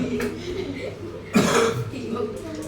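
A single short cough from a teacher bursts out amid a murmur of classroom voices during an English lesson for Thai students, brief and fairly close.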